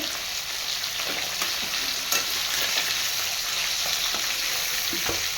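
Pieces of snakehead fish fry in hot oil, giving a loud, dense, continuous sizzle and crackle close by, with faint scrapes of a utensil now and then and no talk.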